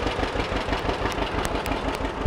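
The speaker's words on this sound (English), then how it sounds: "You can hop on the old-fashioned John Deere tractor and take a ride out to the patch." An old-fashioned John Deere tractor engine runs at a pumpkin patch with a steady, close, throbbing low rumble that stays fairly even throughout, with no voices.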